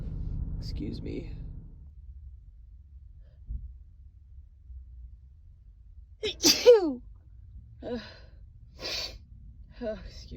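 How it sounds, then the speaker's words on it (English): A woman with a Christmas cold sneezes once, a sharp, close burst after a quick gasping inhale, followed by brief breathy sounds and short speech. "I have to sneeze."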